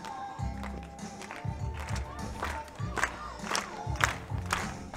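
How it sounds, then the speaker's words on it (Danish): A crowd at the centre court of the 2013 Women's U19 European Beach Handball Championship match between Switzerland and Denmark claps and cheers in rhythmic bursts, with shouting voices mixed in. "Nu tak første klapsalve over centerkort til de danske piger"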